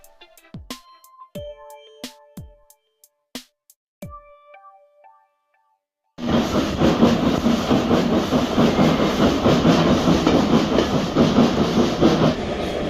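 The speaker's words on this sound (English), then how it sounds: "We're on the train right now, and it's a request stop" A carriage ride behind a 1953-built austerity steam tank engine, WD-92, starts with sharp scattered clanks and knocks, then a loud steady rolling rumble and rattle of the train in motion takes over to the end.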